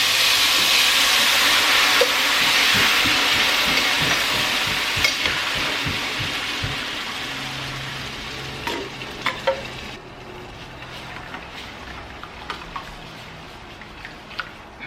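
Ground meat sizzles loudly in a hot pan while a utensil scrapes and stirs, the frying gradually settling to a quieter crackle.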